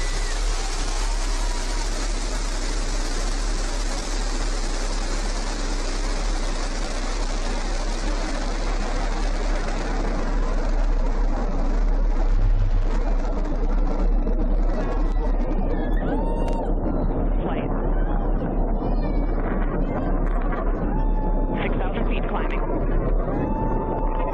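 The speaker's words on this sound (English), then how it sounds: "Liftoff. New Shepard has cleared the tower." A Blue Origin New Shepard rocket's engine roar at liftoff rumbles continuously and loud, a broad thundering blast that holds steady for the full stretch, with faint voices and tones over it.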